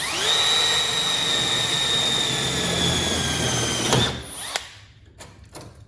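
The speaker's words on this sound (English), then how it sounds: "So we're gonna drill her down." A power drill whines at high speed for about four seconds, drilling a toolbox to mount a vise, then stops, followed by a few short clicks and bursts as it winds down.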